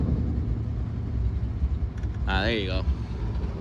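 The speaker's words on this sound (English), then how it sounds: "let me step on the gas a little bit so we can kind of calibrate the gas" A Chevrolet K5 truck engine running with the gas pedal pressed gives a continuous low rumble that swells slightly, while someone speaks briefly partway through.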